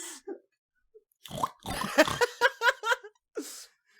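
A man imitates a pig, making snorting grunts followed by a rapid run of nasal oinks, close and loud, with brief breaths and snorts around them.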